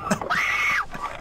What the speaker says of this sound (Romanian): Ascultați cum strigă.